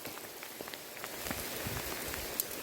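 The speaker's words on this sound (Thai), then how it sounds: "ฝนตกเลยยินเสียงบ่" Rain falls in a forest, a steady patter of drops on leaves and surfaces with scattered sharper hits, close and moderately loud, no voices.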